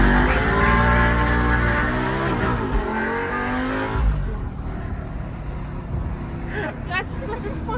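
A Lamborghini Gallardo Gen 1 Superleggera engine revs loudly up and down close by, its rising and falling pitch sweeps filling the clip, with brief voices over it near the end.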